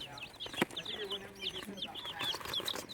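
Ten young chicks cheeping and clucking in a backyard coop, with a dog kept nearby, a busy chorus of high chirps running steadily throughout, with people talking faintly underneath.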